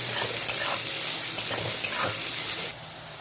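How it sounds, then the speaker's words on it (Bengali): Green chillies and chopped onion with a little salt sizzling in hot oil, a loud continuous frying hiss broken by a few scraping stirs, cutting off abruptly near the end. "এর মধ্যে এবার কাঁচা লঙ্কাগুলো পেঁয়াজ কুচিটা দিয়ে দেবো, লবণ দিয়ে দেবো অল্প সামান্য, দিয়ে ভালো করে নেড়ে চেড়ে একটু লাল লাল করে ভেজে নেব"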